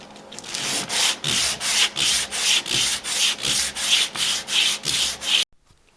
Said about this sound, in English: Now it is time to do some sandpaper. So I got some 150 and some 220.